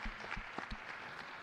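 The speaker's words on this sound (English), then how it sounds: "Can y'all get them a round of applause for that?" Applause from a conference audience at a Maryland statewide justice and reentry event, a short burst of scattered claps in a large room, heard only briefly.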